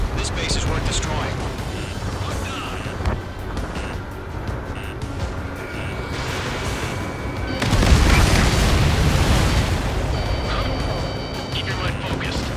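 Explosions rumble through the video game Ace Combat 7 as enemy transports are destroyed, a steady roar of booms and engine noise swelling into a louder burst midway, with radio voices talking over it.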